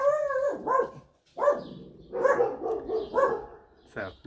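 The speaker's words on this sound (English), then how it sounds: "So now you'll hear the barking chorus." Dogs bark in an irregular chorus, several loud, close barks and yelps in quick bursts with short pauses between.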